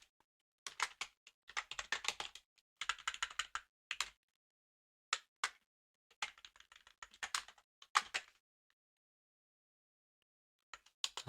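Bursts of computer keyboard typing during live coding of a Snake game in C, close and clear, with quick clustered keystrokes separated by short pauses and no voices.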